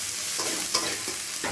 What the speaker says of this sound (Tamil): வதங்கினதுக்கப்புறம் குடமிளகா போட்டுக்குங்க. அதை நல்லா கொஞ்சம் வதக்கி வச்சுக்கலாம்